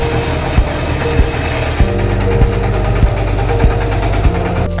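A woodworking machine cuts wood in a furniture workshop, producing a loud, steady motor drone with regular thumps repeating roughly every half second.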